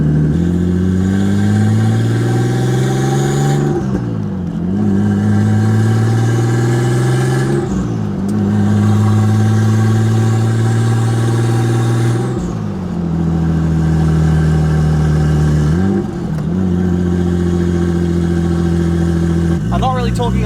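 Nissan R32 Skyline engine droning loudly from inside the car while driving, with repeated rising revs and gear-change dips roughly every four seconds, the exhaust sounding noisy and continuous throughout.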